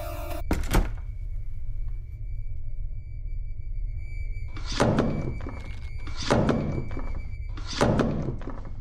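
In a horror video game, a door is locked behind the player: a sharp click comes first, then three heavy, evenly spaced thunks over a low ambient hum.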